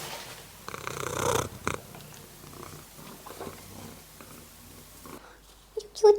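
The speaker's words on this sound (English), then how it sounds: "Oh, you're purring." A pet cat purring close by, a soft low rumbling interrupted by rustling and handling noises, with a person's voice and sharper sounds near the end.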